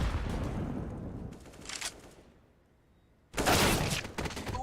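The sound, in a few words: gunfire in a Counter-Strike match, video game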